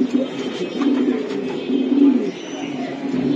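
Racing pigeons at a farm loft cooing in soft, low repeated calls close by, with people talking over them throughout.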